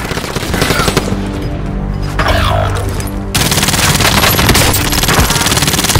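Rapid automatic gunfire in Call of Duty: Warzone, loud and sustained bursts of close weapon fire with a brief lull midway before shooting resumes heavily.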